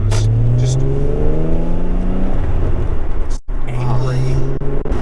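2005 Acura NSX-T with a manual transmission accelerating on the road, its engine revving up in rising pitch sweeps, dropping briefly at a gear change, then climbing again, with a voice talking over it.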